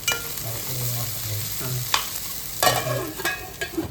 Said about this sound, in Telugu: అలా కలుపుతూనే ఉండాలి.